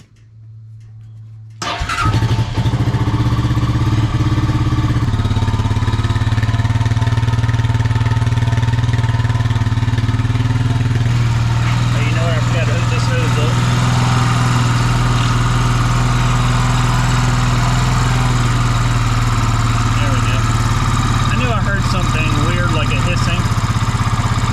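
An old Honda ATV, left outside for years, starts up and settles into a steady, slightly uneven idle close by, a continuous low engine drone with no revving.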